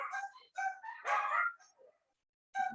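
Dogs barking and whimpering nearby indoors, a few short bursts of yips and whines with brief pauses between them.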